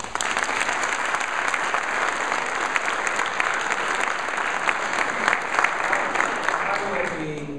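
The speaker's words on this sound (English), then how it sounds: "Give them a round of applause." Sustained applause from an audience at a collegiate society initiation ceremony, dense and steady throughout, with faint voices in the crowd and a slight fade near the end.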